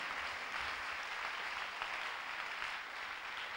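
A congregation applauding at a church preaching service, a steady wash of clapping heard from a little distance and sustained at an even, moderate level throughout, with no voices standing out.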